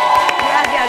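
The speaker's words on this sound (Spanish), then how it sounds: "Un fuerte aplauso a Laura G." A TV show studio audience cheers and applauds for a guest in a short, loud burst of crowd noise with whoops and clapping.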